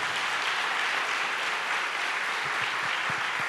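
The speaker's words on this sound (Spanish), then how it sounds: "Si le va a aplaudir, apláudale fuerte al Rey de Reyes." A church congregation claps for a sermon, a dense, steady wash of applause filling the whole stretch with no voices over it.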